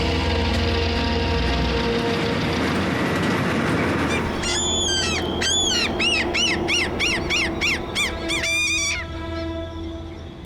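Gulls from an urban colony on broad, flat, fenced city surfaces call in a rapid run of loud, harsh, repeated cries that rise over a steady low background rumble, squabbling briefly before trailing off.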